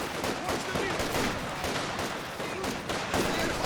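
Machine gun fire from the real-time strategy game Company of Heroes 2, dense overlapping gunshots and battle noise running continuously at moderate level, with faint talk underneath.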